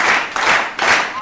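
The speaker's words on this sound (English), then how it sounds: "it deserves some applause" A short burst of applause on a sports radio program comes as three quick swelling waves of clapping, fairly loud and close, with no talk over it.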